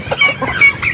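Chickens kept alongside ducks and turkeys give a few quick, close clucks in a brief burst of farmyard calls.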